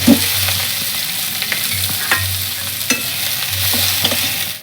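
Onions frying and being stirred in a hot pan, cooked after the pointed gourds in a Bengali kitchen; a steady sizzle runs throughout with periodic scraping stir strokes, close and fairly loud, no talking.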